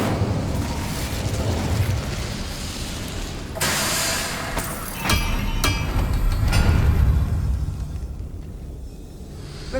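An Incendio fire spell goes off in Hogwarts Legacy, a dense roaring whoosh of game fire and bursting effects over a constant loud sound bed, with a sharper surge around midway, no voices.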